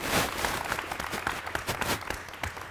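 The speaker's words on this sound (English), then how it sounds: "Let's give Ron a huge round of applause." Audience at a live talk by author Ryan Holiday breaking into a sustained round of applause, dense steady clapping throughout with no speech over it.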